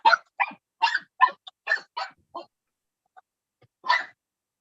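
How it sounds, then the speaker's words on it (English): Dog giving a run of short, sharp barks and yips, about eight quick bursts close to the microphone, then a pause and one final bark after a brief gap. "I don't think I've ever heard Amber bark."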